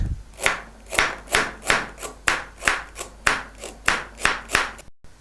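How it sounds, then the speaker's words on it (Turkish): A knife slices carrots into coin-like rounds on a clean wooden board for Vichy carrots, about a dozen crisp, evenly spaced chops close up, with no voices. "Tahtam temiz ve yuvarlaklara kesiyorum."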